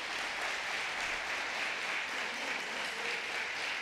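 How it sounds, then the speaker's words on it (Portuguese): A church congregation claps during a Portuguese-language sermon, a steady wash of applause at moderate distance with no voice over it. "Aplaude ao Senhor."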